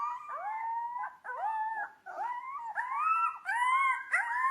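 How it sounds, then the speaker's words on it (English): A young dire wolf howling, several drawn-out rising and falling wails in quick succession, clear and close with nothing else behind them. "releasing a video where you can hear the first direwolf howl in"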